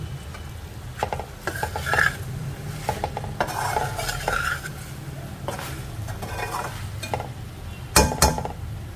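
Green chillies stirred into okra (bhindi) frying in a pan, with a steady sizzle beneath repeated scraping and clinking of a spoon against the metal, loud and close, with no voices.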